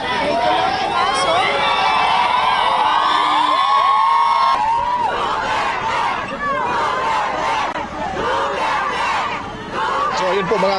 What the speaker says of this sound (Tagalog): sumisigaw ho yung mga kababayan ho natin dyan at parang nasa loob na ho dyan sa isang parang napakataas yung gate